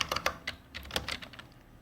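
C++ code goes in on a computer keyboard as a short, quiet burst of irregular keystrokes, close by and with no voices.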